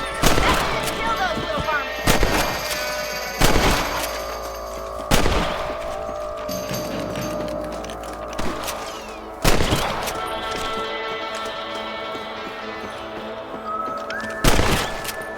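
Rifle shots fired at rabbits in the video game Red Dead Redemption, a series of loud, sharp cracks with long rolling echoes spaced a few seconds apart, over a steady outdoor ambience with game music.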